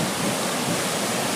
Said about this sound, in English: The center gate is the one that is always lowered at a level which it allows water to flow through